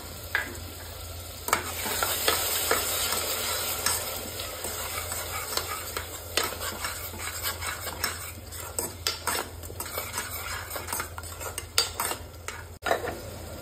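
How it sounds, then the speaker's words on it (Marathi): Coriander and yogurt being sautéed in oil in a pressure cooker for egg biryani sizzle under frequent metal stirring, with scraping and clinking of a spoon against the pot in an irregular rhythm. "त्यातच कोथिंबीर आणि 1 वाटी दही परतवून घ्यायचं चांगले तेल सुटेपर्यंत।"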